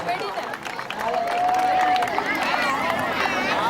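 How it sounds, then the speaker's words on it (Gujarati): An audience at a dog show in Rajkot claps steadily, a dense wash of applause that builds and holds, with a loud voice talking over it. "જોરદાર તાળીઓથી આપણે અભિવાદન કરીશું."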